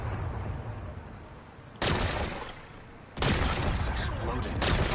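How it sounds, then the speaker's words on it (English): Rocks are blasted apart with explosives in the Horizon Forbidden West video game, two sudden loud bursts of roaring, crackling noise that cut in over a quieter rumbling background. "Gotta blast away some rocks, so I can expose the power cell."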